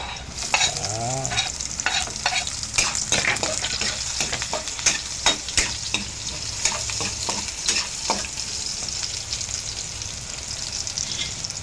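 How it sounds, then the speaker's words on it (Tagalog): Garlic and onions sauté in hot oil for homemade pork humba, with a steady sizzle beneath repeated sharp scraping stirs of a spatula against the pan, close and fairly loud throughout. "Brown ng bawang, i-mix na po natin yung sibuyas."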